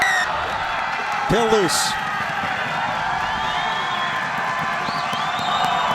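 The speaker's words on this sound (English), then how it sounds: "You can see the crowd really have come to life during the last 10 minutes." Rugby crowd at a national championship match cheering and buzzing steadily throughout, with a brief whoop rising above it while a commentator talks over the noise.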